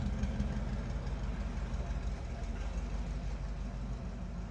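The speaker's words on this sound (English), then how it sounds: "Engine really runs well." A 1951 Ford pickup truck engine, a 302, runs steadily at a low rumble, a constant idling drone with no speech over it.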